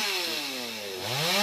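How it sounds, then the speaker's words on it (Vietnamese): A chainsaw-like motorized saw drones loudly as its engine pitch sags under load, then rises again, cutting through a jackfruit tree branch up close. "chú bắt đầu cưa nhánh tiếp theo nha các bạn"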